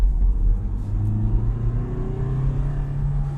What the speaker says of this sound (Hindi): Now, revving the engine, traction control is off.